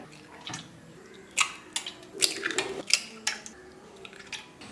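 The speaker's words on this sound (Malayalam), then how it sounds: "വേറെ ഒരു പാത്രത്തിലേക്ക് അഞ്ച് മുട്ട പൊട്ടിച്ചൊഴിക്കാം" Five eggs cracked into a separate bowl while making chattipathiri: a run of sharp little taps and clicks against the bowl rim, a few spaced and then a quicker cluster, with faint wet drips and handling noise, close up and fairly quiet.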